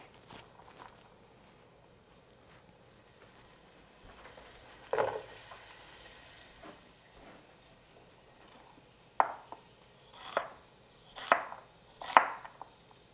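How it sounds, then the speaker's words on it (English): Knife chopping celery, onions and carrots on a cutting board for soup, heard as a few sharp, close chops spaced about a second apart after a quieter stretch, with no talking. "All right, so I'm gonna finish chopping these up"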